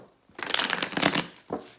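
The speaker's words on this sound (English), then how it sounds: "Let's do another shuffle." Tarot cards being shuffled in two bursts, a long riffling flutter followed by a short second riffle, close and fairly quiet with no talk over it.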